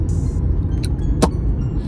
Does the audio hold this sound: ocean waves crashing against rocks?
no